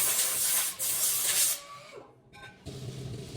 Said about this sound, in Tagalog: nililinisan ko yung bagong dilihan ng mga pads gamit ang hangin